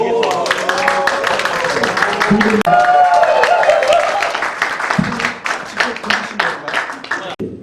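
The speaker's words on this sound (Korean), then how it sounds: "박수" Attendees at a Rotary club workshop clap in a busy, continuous burst of applause while people talk over it.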